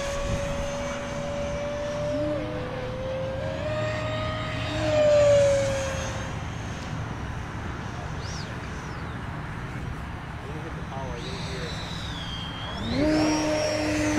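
E-flite F-16 model jet flying in tandem at a model aviation day event, a steady electric ducted-fan whine with rising and falling pitch as it passes, continuous and moderately loud throughout.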